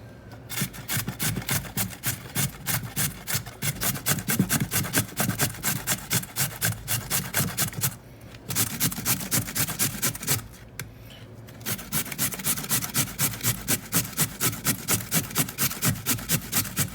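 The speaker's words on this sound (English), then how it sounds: "we got our microplane, but our box grater made by Microplane. She's got some miles on her, so so we're just going to start grating." Potato grated on a well-worn Microplane box grater, loud close rhythmic rasping strokes in a fast steady series, with two short pauses before grating resumes.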